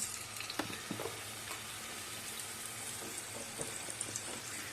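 Diced chicken breast pieces sizzle and fry steadily in a pot, a continuous crackling hiss with a few soft stirring clacks, no talking.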